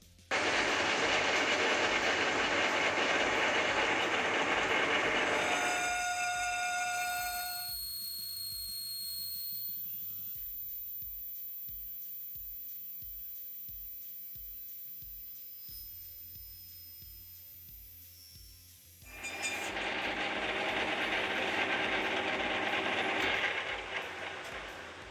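A hobby machining cut on the second side of a workpiece chatters loudly, with a harsh grinding rattle. It drops into a quieter stretch of ringing tones and then returns with a steady roar, close and without talk.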